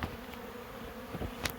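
Honey bees swarm around a beehive during a transfer of brood and queen into a box, giving a steady, close, dense buzz with a few louder passes as individual bees fly near.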